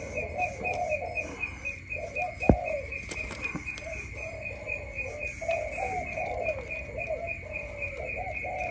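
Caged doves or pigeons offered for sale in Kien Giang coo in a steady, repeating rhythm, soft and fairly close, with a faint high tone and an occasional click in the background.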